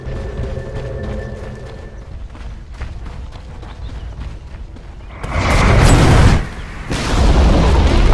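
A tower crumbles in a Dota 2 match with a booming, rumbling collapse and crackling debris, loud and close, coming in two heavy waves after quieter battle noise.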